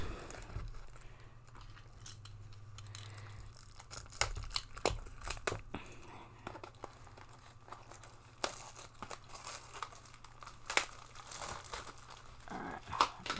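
Plastic wrap crinkles and tears as it is stripped from a Modern Horizons 3 collector booster box, a close, irregular run of crackling and rustling with sharper crunches, no voices.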